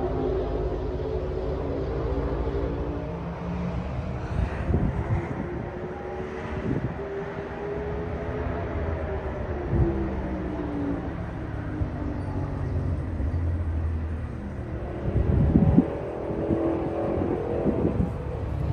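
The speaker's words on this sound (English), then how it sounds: "you can hear the bikes practicing going around the track" Motorcycles practice laps around a track during Laconia motorcycle week. Their engines sound distant and faint, with a steady hum that swells and fades as the bikes pass and rev.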